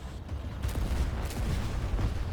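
Artillery fire in a war-themed video game, a dense, continuous barrage of low booms rumbling steadily for the whole stretch with no pause, loud and close.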